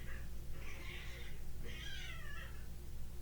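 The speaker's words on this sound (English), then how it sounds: "There's these cats fighting outside." Cats fighting outdoors let out two long, wavering yowls in quick succession, heard at a middling distance over a low, steady background hum.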